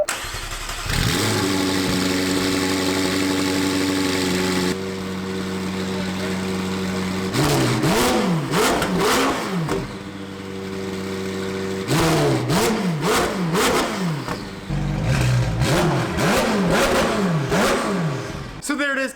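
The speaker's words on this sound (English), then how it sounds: "Now let's give this thing a cold start and see how it sounds." A McLaren 720S with a newly installed exhaust cold starts with a loud bark, then holds a high droning idle broken by several sharp rising and falling revs, loud and close.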